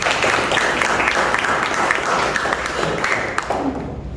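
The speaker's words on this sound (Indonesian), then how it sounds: "tepuk tangan dulu dong buat kalian semua" A classroom of students claps steadily, sustained applause filling the room throughout.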